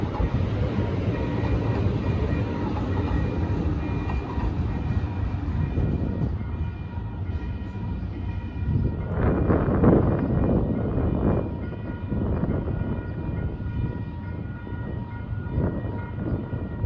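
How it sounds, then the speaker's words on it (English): Series 7 SD160 diesel locomotives pulling out of Lions Park station, engines rumbling at a distance while the train horn sounds repeatedly in several bursts over the steady low drone. "He honked for me. And honked a lot."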